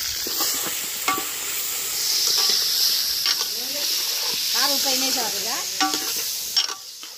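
Onions and chicken fry for a chicken curry, hissing and sizzling steadily in a pan while a spoon scrapes and stirs in short repeated strokes, with brief faint voices in the background.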